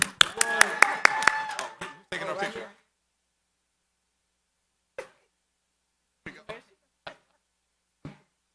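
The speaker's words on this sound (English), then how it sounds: "And a round of applause, please." Brief, scattered handclaps from a small audience at a Kwanzaa kinara lighting ceremony in Detroit, following a stretch of talk, then a handful of isolated claps spaced over several seconds.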